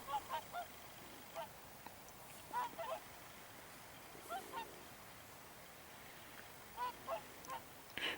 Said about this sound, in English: I like the way the birds talk to each other. I mean, that's the swans chatting away.